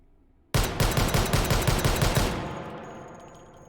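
Virtual Desert Eagle .50 AE pistols firing in H3VR, a rapid string of about ten loud, close shots fired in quick rhythm, followed by a fading ring and echo.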